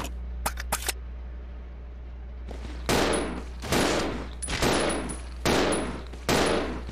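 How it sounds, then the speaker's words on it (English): Gunfire in Resident Evil 0: a few quick faint pops early, then four loud, heavy bursts of shots spaced about a second apart, each ringing out broadly with no talk over them. "Just fire and fire"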